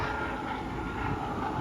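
A freight train passing close by gives a continuous, loud rumbling roar with a faint rhythmic rattle of the wagons and no voices.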